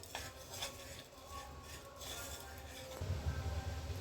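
Sugar melting into caramel in a pan while being stirred, with soft scraping and faint metal clinks of a spoon against the pan, steady and close, with a slightly louder stretch near the end.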